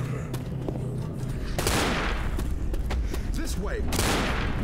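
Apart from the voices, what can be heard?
pistols firing in the video game Left 4 Dead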